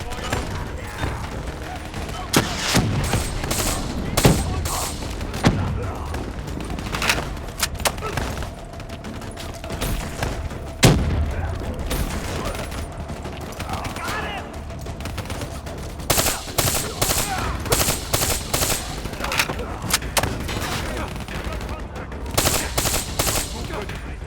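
Gunfire in the Black Ops 3 campaign on PS5: repeated bursts of automatic rifle fire and single loud shots crackle throughout, with booming impacts and a voice talking in between.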